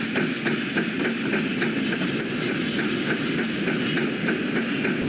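A train rolls steadily along the rails with a rhythmic clickety-clack and a constant rumbling roar, close and loud, with no voices.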